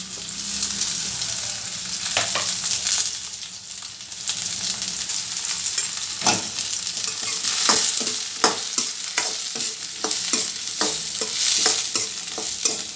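Onion, garlic, ginger, cinnamon, clove and cardamom frying in hot oil for paneer masala, a steady sizzle cut by repeated sharp spoon scrapes and taps that grow more frequent toward the end.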